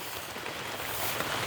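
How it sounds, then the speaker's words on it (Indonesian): Heavy rain pours down in a forest, a dense, constant hiss of drops on leaves and ground that grows slightly heavier toward the end, close and continuous with no voices. "Hujan udah mulai besar"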